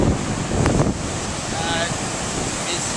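Strong surf at Orange Beach on the Gulf shore, heard from a distance as a continuous roar mixed with heavy wind buffeting the microphone.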